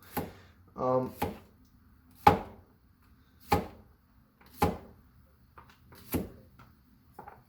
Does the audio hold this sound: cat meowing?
no